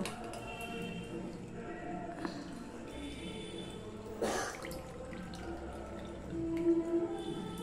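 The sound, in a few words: rinsing vinegar-curdled milk chhena with water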